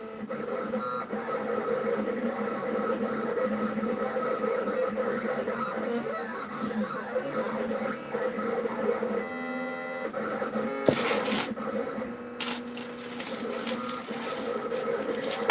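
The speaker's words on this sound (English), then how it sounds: "I'm cutting some vinyl back here for some teacher cutting boards" A vinyl cutting machine cuts decals for cutting boards, giving a steady mechanical whir and hum with shifting motor tones, then a few sharp clicks and rattles near the end, close and fairly quiet with no talk.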